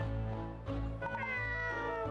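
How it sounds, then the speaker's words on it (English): A cat meows in the video game Layton's Mystery Journey, two short tonal cries, clear and close, over a soft steady background tone. "Cat noises."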